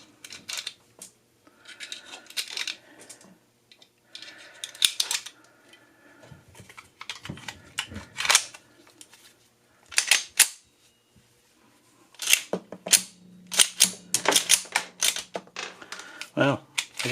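A Tisas 1911 Stingray 9mm pistol cycles 9mm snap caps fed from a 10mm magazine, giving close, sharp metallic clicks and clacks in scattered bursts with quiet gaps between.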